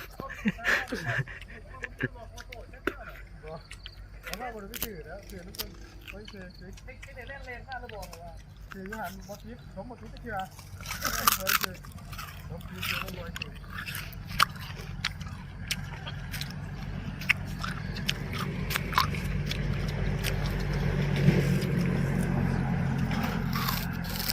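Crisp crunching bites and steady chewing on straw-baked chicken, close up, with crackly transients scattered beneath ongoing talk in Thai.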